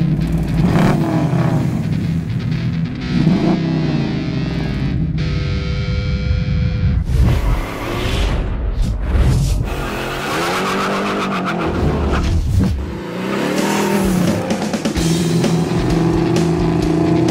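1970 Plymouth Cuda fitted with a 6.1 Hemi engine, loud close revving with sharp throttle blips, surging bursts and rough idle stretches between, plus tire squeal and skidding noise.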